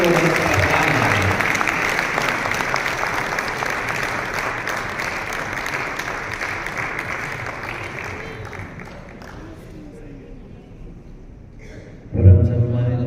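Sustained audience applause at a Hindi poetry seminar, dense steady clapping that gradually thins and fades out over about ten seconds before a brief louder bump near the end.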